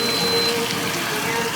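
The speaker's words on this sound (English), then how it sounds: "Yes, splashing of the fuel." Fuel splashing and gushing while a 1997 MK3 Jetta is serviced in the cold, a brief continuous liquid wash close by with a faint tonal whine.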